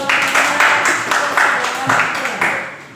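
A classroom of students claps for a group in a short burst of rhythmic, evenly spaced clapping, fairly close and loud.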